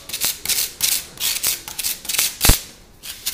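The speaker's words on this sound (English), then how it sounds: "Scrape it in both directions to make sure it fills the gap fully." Up close, a putty knife rasps grout into the gaps between ceramic tiles during a toilet-area floor install, making repeated back-and-forth scraping strokes in a steady rhythm.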